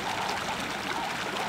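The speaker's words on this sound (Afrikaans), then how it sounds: "soos julle kan sien, is dit tonne en tonne water wat hier uitkom." Water from a burst pipe on Springbok Avenue in Middelburg gushes and pours out steadily onto the road, a dense continuous rushing close by with no voices.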